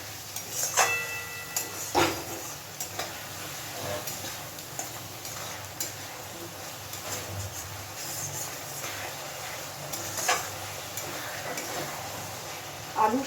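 Spice masala for a chana dal bora dalna cooks in a pan over a low gas flame with a splash of water, giving a soft, steady sizzle broken by scattered spoon ticks and scrapes throughout.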